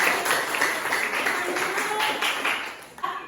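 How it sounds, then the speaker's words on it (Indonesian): A classroom of people claps in a dense burst of applause, with scattered voices mixed in underneath. "Tepuk tangan."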